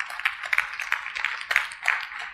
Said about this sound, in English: That is a lovely, polite golf clap